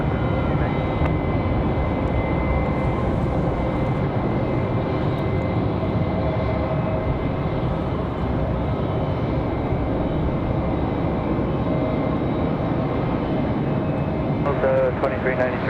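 An airliner takes off from runway 5 left at Raleigh-Durham on a windy day, a steady, strong engine roar throughout, with radio talk over it.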